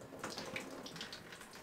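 Water running and splashing into a sink made from a whalebone jaw in an off-grid ocean-view cabin, a steady soft trickle with small bright splashes, close and quiet.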